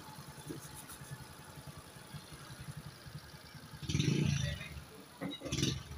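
A Suzuki Burgman scooter engine idles too high, at about 1,800 to 2,000 RPM, after throttle body cleaning, a close steady thrum that swells louder twice near the end.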